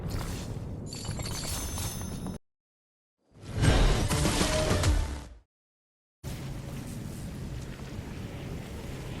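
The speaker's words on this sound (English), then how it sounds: "Shooting at it will cause the glass to break, splashing water on the ground and covering the whole place." Glass of a secret aquarium in Fortnite Chapter 7 Season 3 is shot and shatters, water splashing across the floor; loud crashing bursts separated by sudden silences, with no talking.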